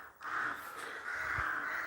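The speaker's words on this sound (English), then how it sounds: "They're all up there roosting." A flock of crows roosting above a historic churchyard at dusk caws in a steady, overlapping din, their harsh calls blending into one continuous noise.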